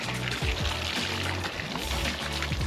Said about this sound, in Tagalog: Siyempre, lalagyan lang natin ng tubig mga katunying.